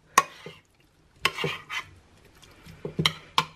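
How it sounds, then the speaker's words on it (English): A spoon stirs cream through green beans in a dish for a cheesy casserole, giving a few separate soft scrapes and clinks with pauses between strokes, close and fairly quiet. "we'll give that a good stir through to just get all that lovely creaminess distributed amongst the green beans"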